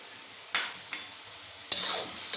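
A steel spoon stirs thick beef shinwari gravy in a pan, a steady soft sizzle broken by a few brief scraping strokes and one louder, longer stir near the end; close and moderately loud, no talk.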